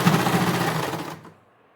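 A sewing machine stitches cotton cloth in one rapid, rattling burst lasting about a second, close and fairly loud, then stops, leaving near silence.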